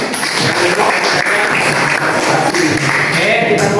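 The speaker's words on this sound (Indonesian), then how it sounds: "tepuk tangan dulu bagi yang duduk ya" Students clapping during a classroom Simon Says game, a loud, dense burst of hands close by, mixed with children's chatter and noise filling the room.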